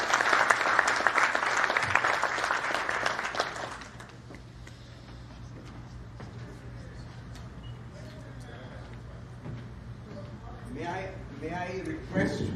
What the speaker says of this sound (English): A very large round of applause for all three.